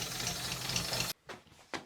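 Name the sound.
old English car engine idling smoothly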